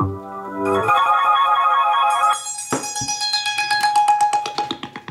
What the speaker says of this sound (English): we're going to go ahead and test it with the ringtone